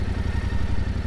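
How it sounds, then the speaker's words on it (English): A Yamaha Tenere 700 or KTM 790 Adventure motorcycle engine runs steadily with a low, pulsing mid-range drone and a light mechanical clatter, close and continuous with no talking. "When you start revving the engine,"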